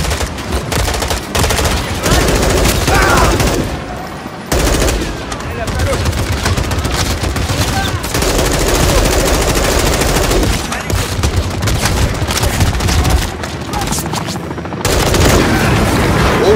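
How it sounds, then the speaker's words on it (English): Mounted machine gun on an armored vehicle in Call of Duty Modern Warfare 3, firing loud sustained bursts mixed with booming impacts and dense battle noise, with voices talking over the combat throughout. "John's got a mounted MG coming your way on an armored vehicle."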